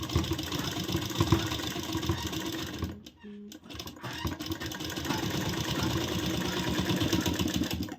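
A sewing machine runs a double line of stitching on a blouse, with a steady close whir that stops briefly for under a second, then resumes and carries on.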